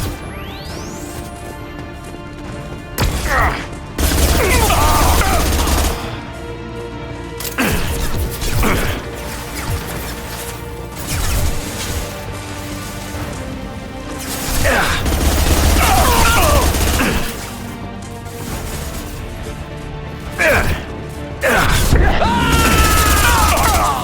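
Gunfire and explosions in the sci-fi shooter Mass Effect 2, with loud bursts of automatic fire, heavy impacts and booms coming in dense waves over a rumbling combat soundscape, and voices shouting intermittently.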